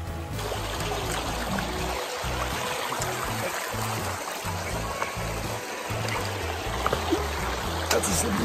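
Water in a shallow mountain stream at a trail crossing rushes and trickles over rocks in a steady, close, continuous wash, with low rumbling fluctuations underneath.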